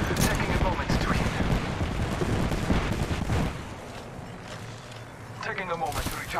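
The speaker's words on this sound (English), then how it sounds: "It's shooting at me. I am taking fire." Gunfire from the Apex Legends video game, bursts of shots mixed with loud action effects that stay dense for about three seconds, then quieter game sounds with a brief burst near the end.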